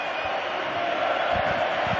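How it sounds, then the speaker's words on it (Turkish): A stadium crowd cheering coach Şenol Güneş of Beşiktaş as the league title is celebrated, a dense continuous roar that holds steady throughout, with a few low thumps underneath. "Büyük alkışlar Şenol Hoca'ya"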